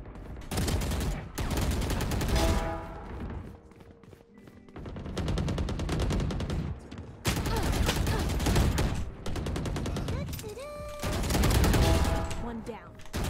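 Rapid bursts of automatic gunfire from the video game Valorant, repeated volleys with short pauses between them, loud and close, with occasional game sound effects layered in.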